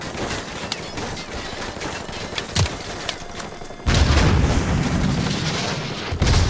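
Rapid gunfire and booming explosions from the video game Call of Duty: Modern Warfare Remastered, dense and continuous, with a heavier, louder barrage of blasts in the second half.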